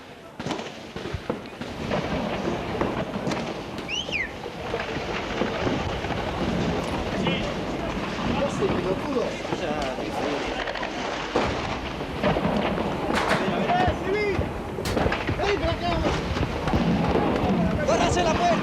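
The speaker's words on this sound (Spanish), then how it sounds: "Es impresionante la cantidad de disparos que se están efectuando en este momento. Armas largas, armas cortas y disparos de mortero." Dense gunfire from long and short weapons mixes with mortar blasts, a continuous crackle of shots and heavier booms at varying distances, with voices shouting throughout.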